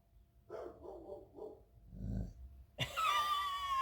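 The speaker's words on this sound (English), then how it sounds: "You made that growly sound because the neighbor dog barked, didn't you?" A dog growls low and short while a second dog, a neighbor's, barks in a quick series further off, the barking ending in a sharp, high, whining yip.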